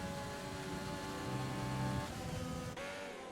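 Ferrari race cars in a racing video game at Silverstone, engines humming steadily with a slight pitch rise and a quick shift near the end, no talk over it.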